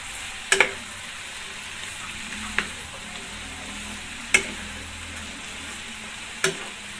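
String beans are stirred in a frying pan over a soft background sizzle, with a few sharp scraping clacks of the utensil spaced a couple of seconds apart.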